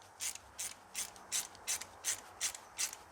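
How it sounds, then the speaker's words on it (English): A ratchet wrench tightens a hose clamp on a 2013 Mercedes-Benz C250 CDI W204 during a service, giving eight quiet, evenly spaced clicking strokes up close. "you've got a nice ratchet wrench on there"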